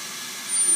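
A hissing torch flame used for fire polishing opal beads, a steady broadband rush that swells slightly louder toward the end, heard alone.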